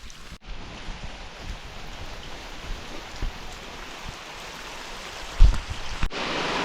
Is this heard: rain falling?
yes